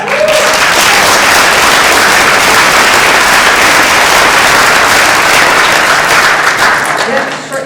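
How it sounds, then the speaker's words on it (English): Loud, dense applause fills a room at an animal rights conference, sustained at full strength for several seconds before it starts to taper. "shorten the claps, I don't have a lot of time"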